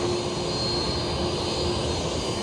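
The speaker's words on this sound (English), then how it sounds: "Now both take off for the north side here at runway 8." A JetBlue Airbus A320 and an Iberia Airbus A330-200 taking off from runway 8, a loud, steady jet engine roar with a constant whine, close and continuous with no talk.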